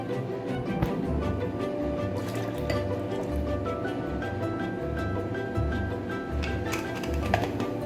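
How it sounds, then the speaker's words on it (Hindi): Chilled milk straight from the freezer is poured into two glasses for cold coffee, giving a steady liquid fill with dripping and faint glassy clinks, close and moderately quiet, with no talking. "ये मिल्क देखिए मैंने बिल्कुल फ्रीज़र में रखे, ये चिल्ड मिल्क है। 2 ग्लास ये हम डाल दें।"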